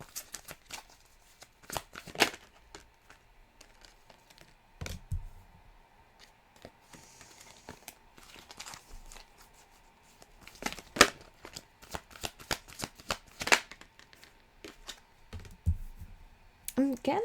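Tarot cards shuffled and laid out during a Virgo reading, giving scattered dry clicks and riffling taps at close range. They come in bursts with short quiet gaps, and faint speech-like sound sits under them.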